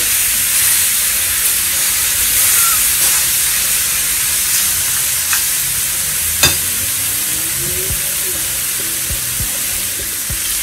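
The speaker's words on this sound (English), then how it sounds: "I'm frying it a bit here before I will grill it." Steady loud sizzle of steak frying in a hot pan, with an occasional clink of a utensil against the pan, no voices.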